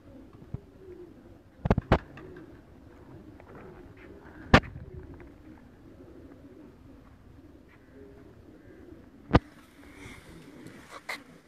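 Pigeons coo softly and continuously in the background. Several sharp, loud clicks or snaps break in at irregular moments.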